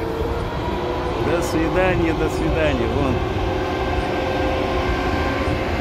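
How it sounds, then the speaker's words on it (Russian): Passenger train No. 069, Chita to Moscow, sets off as its electric locomotive pulls away, giving a steady rumble with rising tonal whine under nearby voices. "Ну все, поезд поехал, счастливого пути этому поезду."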